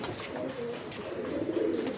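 A male pigeon coos close by in a continuous low, throaty rumble with soft rising and falling pulses, heard alone.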